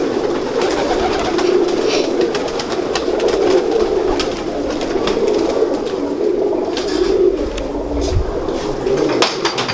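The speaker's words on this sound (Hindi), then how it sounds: "ये हमारे पास रोजा कबूतर है, उसका ये आगे से बेटा है" Pigeons coo continuously and loudly at close range, a low rolling warble that repeats throughout, with some faint clatter in the background.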